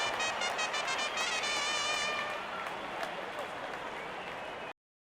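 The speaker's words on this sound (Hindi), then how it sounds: "फैंस भी ताली बजा दे तो समझ जाइए बैटिंग कमाल की हुई है।" Cricket crowd at an IPL qualifier, RCB versus GT, clapping and cheering after a boundary four: loud, dense stadium applause with whistles early on, easing slightly before cutting off abruptly near the end.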